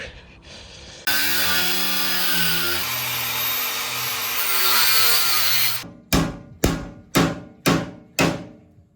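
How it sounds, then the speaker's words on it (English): An angle grinder cuts the shock mounts off a Toyota Hilux, a loud continuous metallic whine lasting several seconds. It then breaks into five short, sharp bursts at a steady rhythm, close and alone. "Just grinding the mounts off here."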